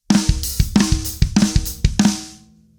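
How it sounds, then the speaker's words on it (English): A drum fill inspired by a song: a repeating pattern of snare flams and kick hits, each flam followed by a hi-hat stroke, played close and loud in four quick groups and ending with ringing cymbal decay. "except after the flam, I hit the hi-hat"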